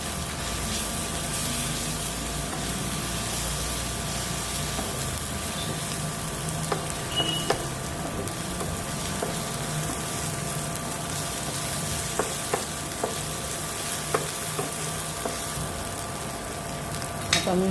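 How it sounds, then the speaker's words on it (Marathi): A spice paste with asafoetida and turmeric sautéing in a pan for a sukat dish, a steady close sizzle lasting throughout, with occasional sharp taps and clinks of a spoon against the pan. "ते वाटण घेतले ते टाकूया आपण अर्धा चमचा आणि परत परतून घेऊया."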